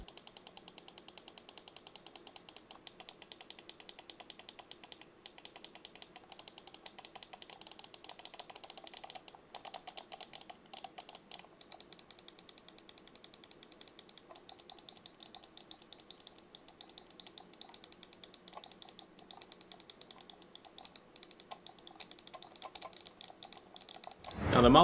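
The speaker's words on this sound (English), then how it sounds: "let's go ahead and listen to those mouse clicks that they swapped on the new version" Endgame Gear XM1 RGB gaming mouse buttons clicking in a rapid, steady run of close, crisp clicks with no talking.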